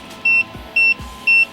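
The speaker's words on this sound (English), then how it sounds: "There's the beep because the doors are open." Door-open warning chime from a BMW E90 interior, three evenly spaced electronic beeps, clear and close, with a couple of low thumps between them.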